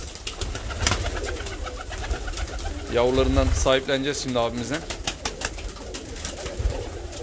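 Cimperi fancy pigeons coo in a crowded coop, a loud nearby burst of throaty rolling coos mid-way amid scattered wing flutters and bird calls, with someone speaking over them.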